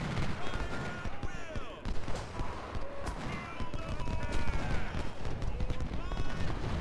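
Civil War battle gunfire in Ultimate General: Civil War crackles as scattered rifle shots and heavier cannon booms, with whizzing projectile sounds, under someone talking.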